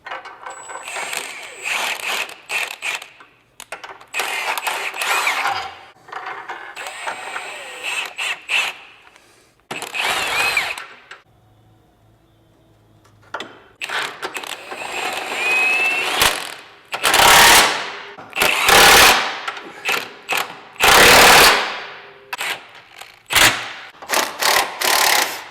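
Bolts being installed and tightened during a 4-inch lift kit install on a 1997-2001 Honda CR-V, with repeated close metallic clinks, ratcheting and rattling bursts separated by short pauses, no talking.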